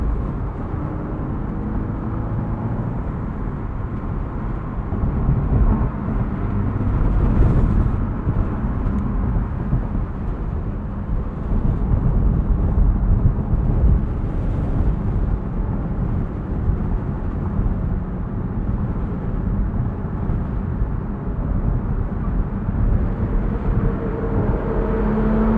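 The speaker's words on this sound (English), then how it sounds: "So let's get this thing merged onto the highway. Why don't we try out these paddles?" A Porsche Boxster accelerates while merging onto a highway with its paddle shifters in use, giving a loud, steady engine and road rumble that swells slightly partway through, with no voices.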